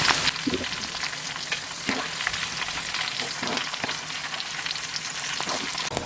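Yardlong beans fry in hot oil with a dense, continuous crackling sizzle close up, broken by scattered scoops and clinks from a ladle in the pan.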